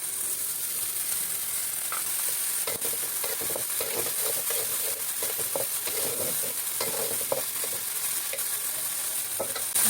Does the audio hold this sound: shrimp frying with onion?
yes